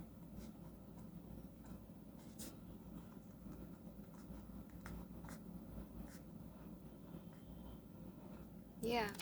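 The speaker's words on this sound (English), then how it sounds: "The writing is so uniform, and the ink coming out very well." A fine-nib Luoshi 278 fountain pen, filled with violet ink, scratches faintly and steadily across paper, giving soft continuous strokes with occasional small ticks. A brief louder rustle or voice-like burst comes near the end.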